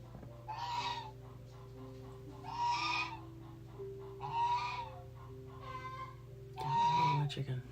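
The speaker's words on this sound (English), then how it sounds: "the other bird over there yelling because she laid her egg" A hen squawks loudly in four separate bursts after laying an egg, each loud cackle rising over a steady low electrical hum, with long pauses between the calls.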